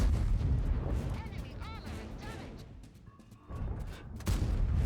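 Tank cannon fire in World of Tanks during a match, heavy booming shots with a sharp blast near the end, playing under continuous spoken commentary.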